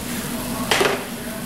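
Cut red potatoes are stirred into a pot of beef stew with mushrooms, giving a single brief scrape and clunk over a low, steady background hum.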